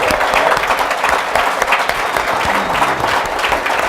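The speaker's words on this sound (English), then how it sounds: "How about a nice round of applause?" Audience at a live show taping in a hotel bursts into dense, steady applause, loud and close, with many hands clapping continuously and no talk over it.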